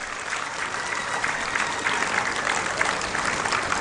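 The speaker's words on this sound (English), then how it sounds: "Can we give them a round of applause" A conference hall crowd at a Uganda–Kenya coast tourism conference applauds the Kenyan delegation with dense, sustained clapping from many hands at a steady, even level.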